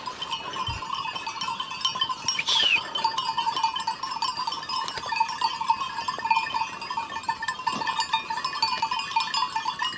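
A large flock of sheep mills about outdoors, with a steady wash of bleating, shuffling and a bell-like tinkle at close to moderate distance.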